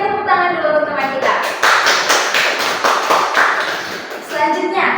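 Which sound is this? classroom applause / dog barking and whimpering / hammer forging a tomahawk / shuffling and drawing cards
classroom applause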